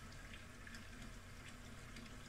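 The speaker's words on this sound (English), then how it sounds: "Let me just top up the sink because it's a little bit low." A water tap runs into a sink holding hot water, a soft steady rushing and splashing with a faint low hum underneath, continuous and quiet, with no one speaking.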